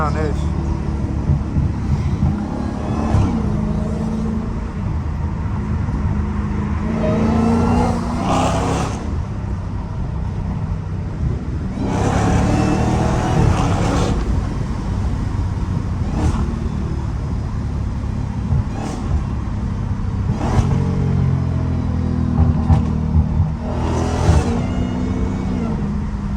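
A Dodge Hellcat's engine revs and surges as it drives, a loud, steady roar with repeated swells in pitch, while someone talks over it throughout.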